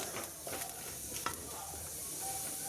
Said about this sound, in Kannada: ಜೊತೆಗೆ ಕರಿಬೇವಿನ ಸೊಪ್ಪು ಹಾಕಿ ಫ್ರೈ ಮಾಡ್ಕೊಳ್ಳೋಣ.